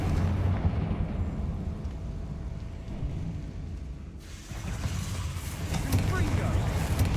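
Confringo fire spell blasts in the Hogwarts Legacy video game, a sustained loud booming rumble that dips briefly midway and then surges again, with a low roar running throughout.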